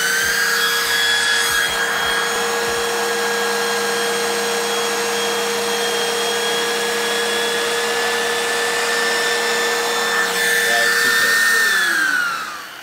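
A Bissell CleanView upright vacuum cleaner running steadily and loudly nearby, a sustained motor whine with a constant airflow roar that spins up at the start and winds down at the end, with no talk.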